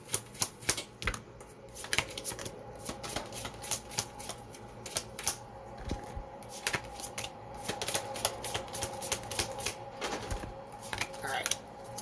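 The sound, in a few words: shuffling cards for a reading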